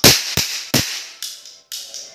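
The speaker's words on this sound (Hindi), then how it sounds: "ये इसके अभी भी पटाखे फोड़े जा रहे हैं" Firecrackers are set off outside, five sharp, loud bangs spaced roughly half a second apart, each with a short, fading echo, and no voices over them.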